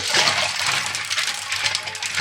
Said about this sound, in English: we're gonna add some ice water